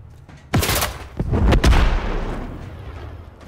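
A grenade goes off in a first-person shooter video game as a sharp, loud blast, preceded and followed by several other heavy booms in quick succession, with a rumbling tail that slowly dies away.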